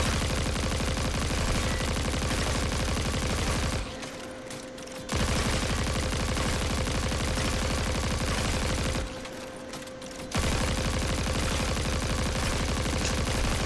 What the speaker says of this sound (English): keep holding down the trigger. The trick is you need an automatic rifle for it.